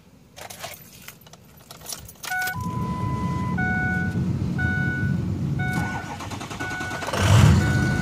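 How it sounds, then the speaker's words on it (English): A car fitted with a left-foot accelerator device starts up after keys jangle, then settles into a steady running idle with repeated electronic warning chimes over it, loud and close. "I've got the engine started"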